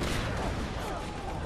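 Gunfire in Just Cause 3 forms a dense, loud burst of shots and blasts that fills the whole moment without a break.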